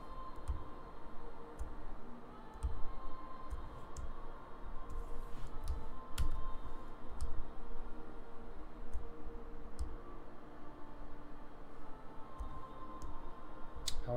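Steady typing on a brand new computer keyboard, light irregular key clicks with sharper taps scattered throughout, close and fairly quiet over a low background hum, no talking.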